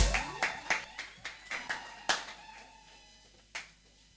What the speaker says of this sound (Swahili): Piga makofi, piga makofi.